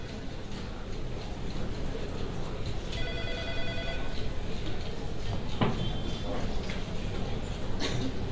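A telephone rings in an office lobby and goes unanswered, a repeated electronic ring sounding in short bursts under voices and room noise.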